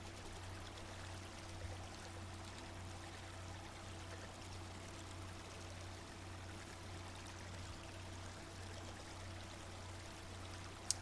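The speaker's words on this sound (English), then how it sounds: "We could just listen to the sound of water." Water flows steadily at a frog pond in a video game, a soft continuous trickling stream over a low hum, quiet and unbroken for about eleven seconds, with no talking.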